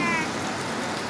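Steady rain falls at Mel Palani temple, a dense even hiss of drops on surfaces holding at the same loudness throughout, close and continuous with no voices.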